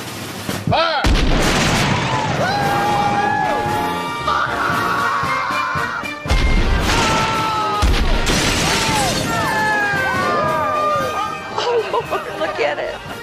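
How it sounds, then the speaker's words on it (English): Cannons fired at a house for a home-makeover demolition, with heavy booms and crashing bursts spread through the clip, mixed with loud shouting and crowd chatter. "They pointed all the cannons at the house."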